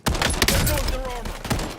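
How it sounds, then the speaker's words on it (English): Rapid bursts of video game gunfire during a team firefight, loud and close with sharp repeated shots layered over busy battle noise and brief voices. "Incoming fire"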